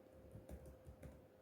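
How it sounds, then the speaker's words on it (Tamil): Keystrokes on a computer keyboard while entering an address into a university entrance exam application form, a few soft irregular clicks close by with a faint steady hum underneath. "நீங்கள் உங்களோட அட்ரஸை வந்து இதில் டைப் பண்ணிக்கலாம்."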